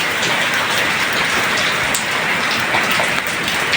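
Steady, heavy rain pours down during the rainy season in the Philippines, a dense, continuous hiss of drops drumming on surfaces that stays loud and even throughout, with no voices.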